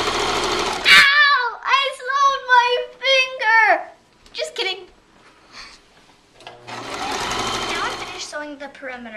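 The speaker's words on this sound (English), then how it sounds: "Now I am ready to sew the perimeter of the quilt." A sewing machine stitches around the perimeter of a quilt, running in a steady burst near the end, while someone talks over most of the stretch before it.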